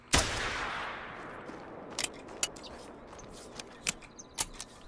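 Gunshots from a .243 pistol fired at bison in a hunting video game: one sharp near shot opens, then a series of spaced, quieter cracks follow irregularly over a faint outdoor ambience.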